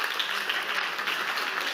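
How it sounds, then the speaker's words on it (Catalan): An audience applauds speaker David Caladi at an astronomy anniversary talk, with a steady wash of hand claps close by and no pause in its brief run. "moltes gràcies i un fort aplaudiment per en David Caladi."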